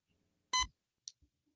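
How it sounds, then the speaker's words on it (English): A single short electronic beep sounds in a quiet room, followed by a faint click and soft tap. "I hear it beeping."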